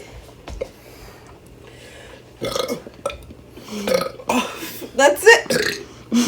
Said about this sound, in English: Get some good burps.